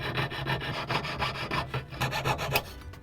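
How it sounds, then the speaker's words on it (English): Steady rasping strokes of a file working down a large area of a carved wax pendant, close and continuous with a quick back-and-forth rhythm and no voices. "this is a large area to file away, so I'm just trying to cut off as much as I can"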